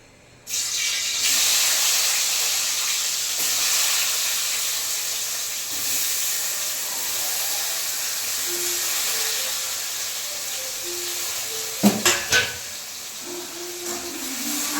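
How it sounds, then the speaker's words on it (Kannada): Food dropped into hot oil sets off a strong, steady hiss of frying that lasts throughout. Near the end come a few sharp clinks from a utensil. "ಎಣ್ಣೆ ಕಾದಿದೆ ಇವಾಗ ಇದನ್ನ ಹಾಕ್ಬಿಡ್ತೀನಿ ಹಾಕ್ಬಿಟ್ಟು ಫ್ರೈ ಮಾಡ್ಕೊತೀನಿ"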